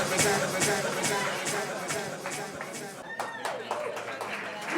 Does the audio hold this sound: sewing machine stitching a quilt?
no